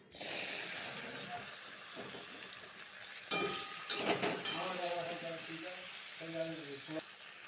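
Okra tipped into hot oil with nigella seeds for a Bengali stir-fry, a loud sizzle that flares when the vegetables hit the pan, with clatter and stirring, while a voice speaks over it.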